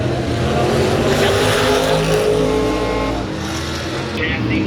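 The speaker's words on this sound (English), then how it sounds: "I'm not going to hear a thing with the modifieds on track." Tour modified race cars lapping the oval at Caraway Speedway, a loud, continuous engine roar that stays close and heavy throughout before easing slightly near the end.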